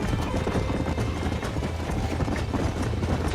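Horse hooves gallop in the Red Dead Redemption video game as a loud, rapid clip-clop rhythm that runs continuously and up close over a busy game soundscape.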